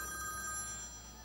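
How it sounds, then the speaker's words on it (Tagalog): A telephone rings steadily with a bright electronic trill over a low background hum, moderately faint, and fading slightly toward the end with no voices heard. "Oh, yan, oh, may nagre-ring. Teka, may tumatawag."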